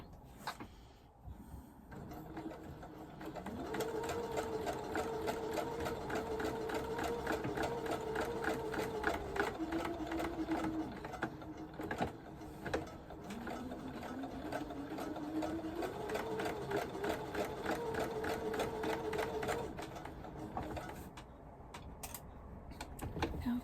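A sewing machine runs steadily, stitching zigzag over lavender bag fabric, with a close, continuous mechanical whir that holds for about twenty seconds before stopping.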